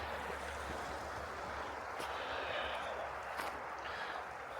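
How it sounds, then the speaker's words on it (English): A brook runs with a steady broadband rush of water, faint and continuous, with a low rumble of distant traffic beneath and a couple of brief knocks. "hopefully you can hear the brook running"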